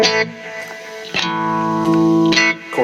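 Electric guitar chords shimmering through a chorus effect, with strums at regular intervals ringing out and a wavering, doubled tone between them.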